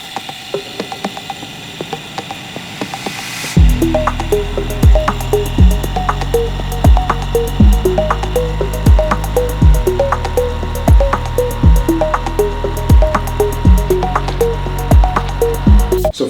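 After a few seconds of near silence, a Fortress ultra quiet 6 gallon air compressor from Harbor Freight kicks on abruptly and settles into a steady, rhythmic mechanical clatter of repeating pulses that runs to the end.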